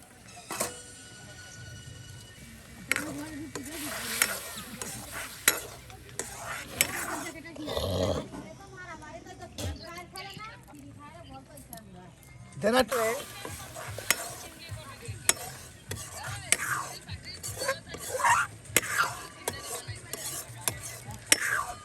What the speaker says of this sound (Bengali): বেশ সময় নিয়ে কিন্তু মশলাটি একদম কষানো মজানো হচ্ছে